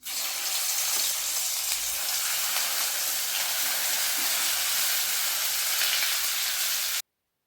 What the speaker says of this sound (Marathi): आता याच्यामध्ये भरलेली भेंडी घालून घेणार आहोत